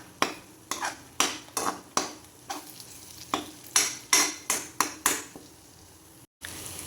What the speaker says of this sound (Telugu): ఇలా స్పీడ్గా కలిపేసేసుకొని పొడైతే చేసేసుకోవాలి